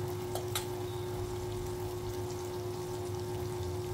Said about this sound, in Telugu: 2 గుడ్లు కొట్టి పోసాను.